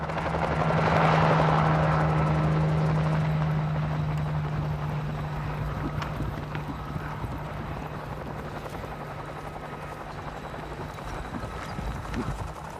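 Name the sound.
helicopter herding wild mustangs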